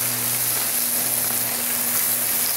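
Bacon frying on a 17-inch Blackstone propane griddle gives a steady, close, even sizzle with a soft crackle, running alone for the whole stretch with no voices.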